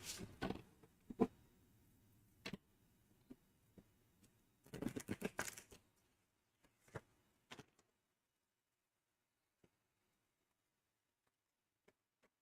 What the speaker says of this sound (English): Shuffle a little bit more here.